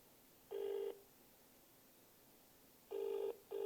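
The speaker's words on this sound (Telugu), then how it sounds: "ఫోన్ రింగ్ అవుతుంది" A telephone rings in short electronic bursts: one ring, a long pause, then two more rings close together, fairly quiet and alone.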